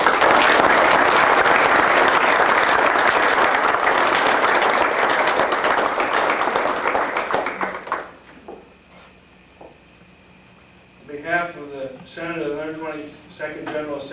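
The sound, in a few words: audience applause for a Hall of Fame inductee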